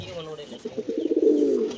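Domestic pigeons raised on a pigeon farm give a soft, rolling coo, several pulsing notes swelling and fading close by, with a faint voice in the background.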